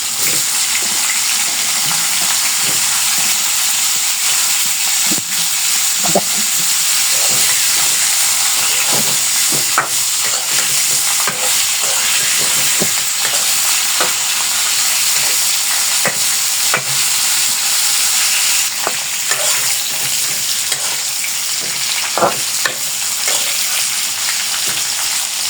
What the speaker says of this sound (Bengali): হালকা করে সুন্দর করে ভেজে নিচ্ছি।